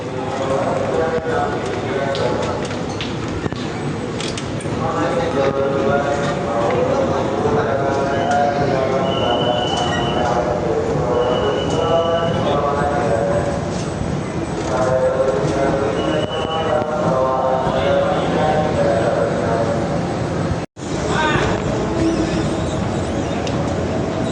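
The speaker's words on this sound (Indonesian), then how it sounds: "sekarang KRL dengan tujuan stasiun Bogor sudah tersedia di jalur 12" KRL commuter train at Jatinegara station, platform 12, bound for Bogor. It rumbles and clatters steadily with a few faint wheel squeals, and people talk on the platform around it.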